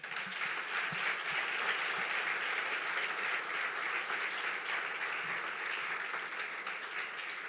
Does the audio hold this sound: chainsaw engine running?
no